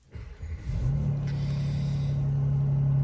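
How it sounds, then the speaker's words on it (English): Mercedes-Benz C43 AMG coupe firing up: a short starter churn, then the engine catches into a loud, steady rumbling idle close by. "If we just fire the car up then."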